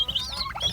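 Turkeys on a backyard farm give rapid, high warbling calls and gobbles, several overlapping bursts over a short moment, close by with faint background noise.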